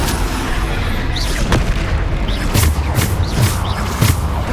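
Repeated booming blasts from Bombarda spell explosions in the video game Hogwarts Legacy, several heavy impacts spaced over a few seconds amid constant combat noise, with no talk.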